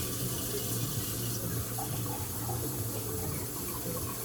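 Water running steadily from a kitchen tap while measuring 450 ml for Korean kimchi stew instant ramyun, a continuous close hiss and splash with no talking.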